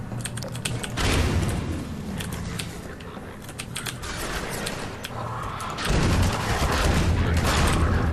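Gunfire from a gun in Half-Life 2 rattles in bursts of sharp, rapid clicks and shots, swelling louder near the end over mechanical whirring, with no clear voice.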